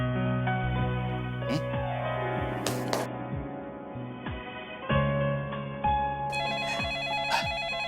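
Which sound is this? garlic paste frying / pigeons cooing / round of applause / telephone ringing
telephone ringing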